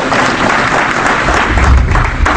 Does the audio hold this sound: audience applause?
yes